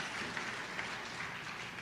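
A room of people at an Alcoholics Anonymous meeting breaks into steady, sustained applause, a dense even clatter of many hands heard from a moderate distance without pause.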